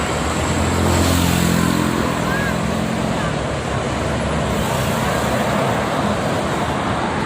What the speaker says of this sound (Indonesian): Banyak bus pariwisata di siang ini.